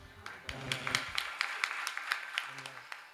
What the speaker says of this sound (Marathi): टाळी तर जोरात वाजवा.